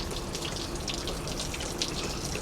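Water pours from a watering can onto a potted fern on a porch, a steady close trickling splash that runs continuously without talk.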